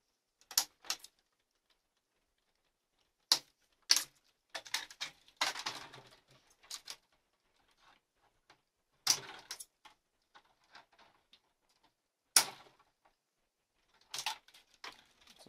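Corners being cut out of wooden beehive frames with a hand tool, sparse, sharp clicks and short cracking snaps separated by quiet gaps, close and fairly faint, no talk.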